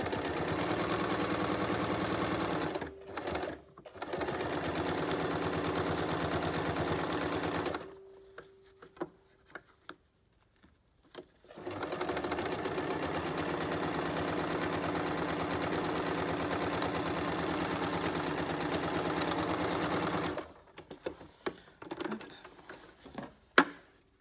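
A sewing machine sews an apron for gardening, running in two long, steady stretches of even mechanical hum separated by a brief quiet pause with small clicks.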